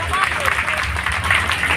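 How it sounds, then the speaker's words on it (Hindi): Loud, continuous applause from a large audience at a Hindu Bhagavat Katha religious gathering, a dense wash of clapping that stays steady throughout with a voice mixed in. "एक बार जोरदार ताली"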